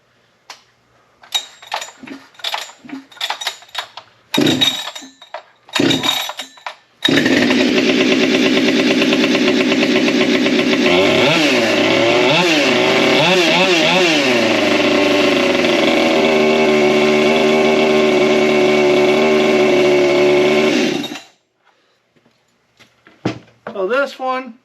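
A chainsaw fitted with a prototype 572 big bore kit roars at high revs for about fourteen seconds, wavering up and down, then cuts off abruptly; brief sputters and bumps come before it and someone talks after it stops.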